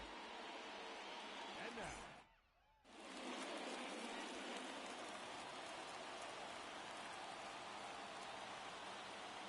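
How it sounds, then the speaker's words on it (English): Rain falls steadily in a baseball video game, a constant hiss of dense drops on surfaces that drops out briefly for a moment before resuming, even and unbroken for the rest of the stretch. "it's raining in Virginia"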